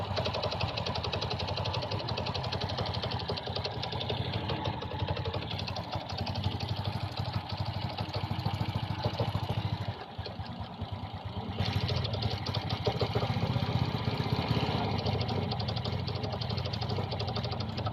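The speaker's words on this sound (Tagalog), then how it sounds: "parang nalulunod ang kanyang makina o parang feeling ko mamamatay ang kanyang makina" A Honda XRM 125 motorcycle engine with a carburetor hard-starting problem chugs and knocks unevenly, sputtering and dipping briefly as if about to stall, then recovering to a rough idle.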